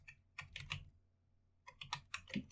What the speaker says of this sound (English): Just as soon as I type this in.